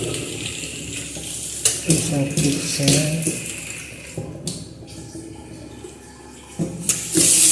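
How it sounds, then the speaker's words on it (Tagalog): A kitchen sink tap in a house in Oman runs with a steady rushing of water. Brief clatters and knocks sound nearby, and someone talks over it. "Check natin ang tubig."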